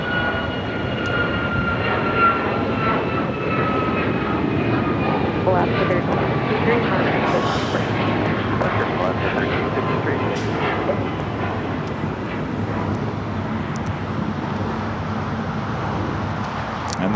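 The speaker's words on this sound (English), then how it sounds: "And that 777 making that left-hand turn onto taxiway Lima" Boeing 777 airliner taxiing at Los Angeles International Airport, turning onto a taxiway; a steady, continuous engine roar and whine holds throughout with faint tonal lines above, heard from some distance.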